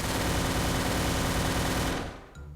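Desert Eagle pistol fire in the Free Fire mobile shooter arrives as a dense, loud wall of overlapping shots for about two seconds, then cuts off into quieter game noise.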